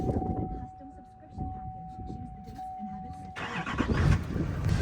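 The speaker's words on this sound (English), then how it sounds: "Let's fire up the Duramax." A Duramax pickup truck's engine fires up: a steady chime tone rings first, then a sudden broad, loud rumble takes over for the last second and a half, close by.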